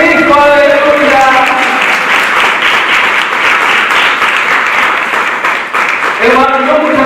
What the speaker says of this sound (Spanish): ¡Aplaude a Cristo!